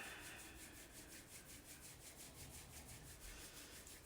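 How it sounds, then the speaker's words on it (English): Palms rub together steadily during a yoga breathing practice, making a continuous soft, close, dry swishing with an even rhythm throughout. "let's start by rubbing our palms together, sitting with a straight spine"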